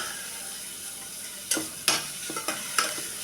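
Vegetables sauté in a pan under a soft, continuous sizzle, broken by several sharp scrapes and clacks of stirring.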